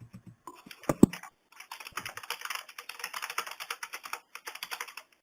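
Password being typed on a computer keyboard: a few isolated key taps, then a quick, steady run of light clicking keystrokes ending with a final press, close and clear.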